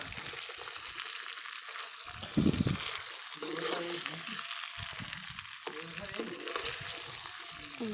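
Water poured into frying spiced Bengali mutton (kosha mangsho) in a home kitchen, producing a loud burst of hissing sizzle that settles into steady frying crackle with occasional stirring scrapes.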